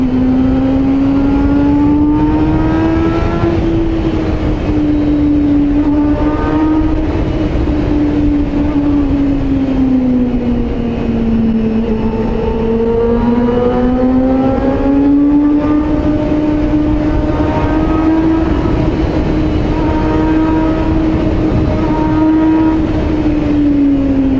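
A Honda CBR400RR motorcycle engine drones loudly and steadily, its pitch rising and falling smoothly through long revs, heard close with constant rumble throughout.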